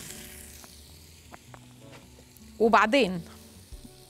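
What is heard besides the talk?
floured meat searing in olive oil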